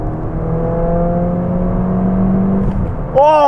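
Ford Fiesta ST MK7 fitted with an induction kit, engine droning steadily under load from inside the cabin, then a brief dip and a quick rise in pitch as a fast gear shift goes through.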